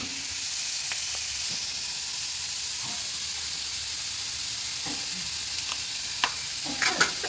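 Onion chutney sautéing on low gas with salt in a pan: a steady broad sizzle throughout, with scattered scraping stir clicks that grow sharper and louder near the end.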